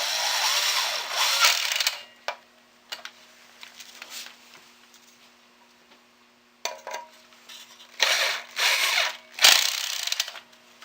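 A handheld power tool whirs in short bursts close by as it drives screws, separated by quiet stretches with faint clicks and ratcheting between runs.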